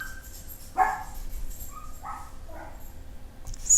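A dog barks a few separate times over a few seconds, nearby but moderately loud, with no talk over it.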